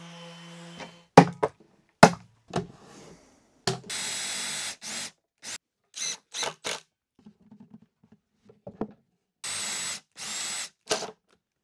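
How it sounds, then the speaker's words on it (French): Intermittent bursts of broadband rasping from sanding wood for a drawer, a few seconds each with short pauses between, close by, mixed with a few sharp knocks and handling noises. "Je vais passer à l'étape qui n'est pas ma préférée, le ponçage."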